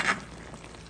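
Beef and carrots cooked with a little wine are stirred in a pot, a short close scrape and sizzle lasting under a second with no voices.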